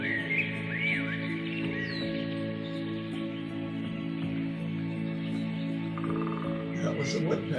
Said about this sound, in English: That was a woodpecker.